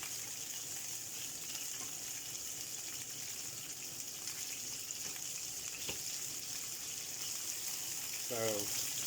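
Meatballs browning in a pan give a faint, steady sizzle, with a brief voice toward the end.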